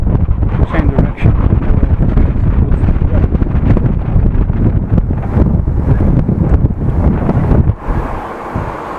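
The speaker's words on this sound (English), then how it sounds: "there are wind gusts, so the wind is turning." Gusty wind buffets the microphone on a city street lined with tall buildings in the Netherlands, a loud continuous roar that drops away sharply near the end.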